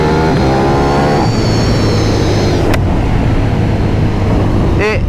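A KTM 1290 Super Duke R motorcycle pulling hard in third gear, its engine note climbing under a loud, constant rush of wind noise, with a brief rising whine near the end.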